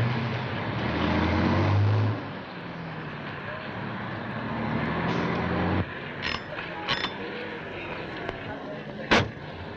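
A taxi's engine pulls up on a street in a 1975 Hindi film. A loud, broad rumble swells and fades over several seconds, followed by quieter traffic noise and a few sharp knocks.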